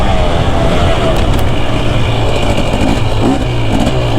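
A 2024 KTM 250 SX dirt bike runs lugged at high speed in second or third gear, a loud steady rumbling engine drone heard up close throughout, mixed with rushing wind.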